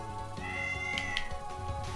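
A cat meows a couple of times, faint and short, mixed under steady background music.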